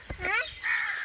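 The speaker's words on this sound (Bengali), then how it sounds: "কাকগুলো কিচিরমিচির করে," Crows cawing outdoors in the afternoon, two or three short harsh calls close by within about a second, heard alone.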